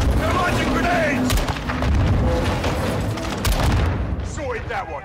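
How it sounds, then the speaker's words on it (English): Grenade launcher blasts and rapid gunfire in the war game Call of Duty: Modern Warfare 2, a loud continuous barrage of booms and shots with voices shouting over the battle. "They're launching grenades!"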